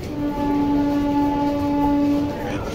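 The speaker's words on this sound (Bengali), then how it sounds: "আরও একটা গাড়ি চলে এসেছে, ট্রেন চলে গেল" A train passes close by at Durgapur railway station, a loud steady rumble topped by a sustained multi-tone horn that holds for about two seconds before fading under the continuing roar.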